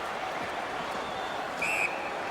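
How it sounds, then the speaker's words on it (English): A short, sharp referee whistle at an ice hockey game cuts through steady arena crowd noise near the end, blown once to call offside. "the whistle signals an offside"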